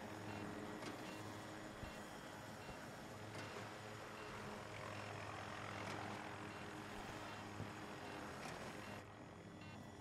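A jet aircraft roars in the video game Battlefield 2042, a continuous broad engine rumble and whoosh running throughout with scattered small impacts and no talking.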